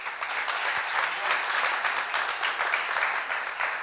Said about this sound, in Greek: Ένα άλλο ένα θερμό χειροκρότημα στα παιδιά.